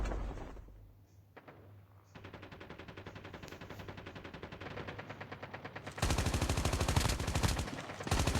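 Rapid bursts of Call of Duty gunfire, automatic fire that grows denser and louder toward the end, with no talking.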